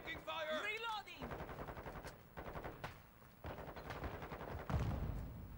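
Video game gunfire crackles in rapid automatic bursts and repeated single shots, fairly close and sharp, following a short spoken line at the start.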